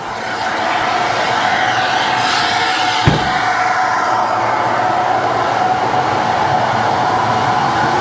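Cooling fans of a Ferrari FF whirring steadily with the engine switched off, a broad continuous rushing hum close by, with one brief knock partway through.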